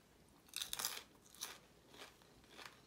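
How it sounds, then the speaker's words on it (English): Fried mullet crunched between the teeth while eating, bones included, from a Guyanese meal with dhal: several close, crisp bursts of crunching, loudest at first then repeating in fainter bites. "listen to the crunch of this mullet"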